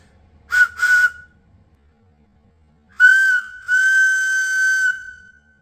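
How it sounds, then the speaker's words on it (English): Two short bursts of a shrill, steady whistle from a homemade wooden whistle, then a longer blast after a pause, close and loud, with no talking. "let's see if we can get this thing to whistle right now"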